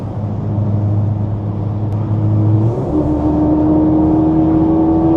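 A Mercedes-Benz SL43 AMG drives on an autobahn with no speed limit. Its engine and road noise form a loud, steady drone, and the engine pitch shifts up partway through, like a gear change.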